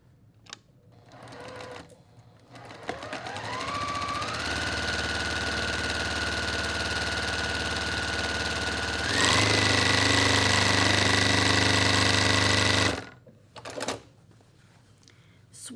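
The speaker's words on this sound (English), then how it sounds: "So since I have the quarter inch foot on already, I'm going to do that first." A sewing machine fitted with a quarter-inch presser foot stitches in a steady, rapid mechanical whir. It rises in pitch as it speeds up, runs louder for a stretch near the end, then stops abruptly.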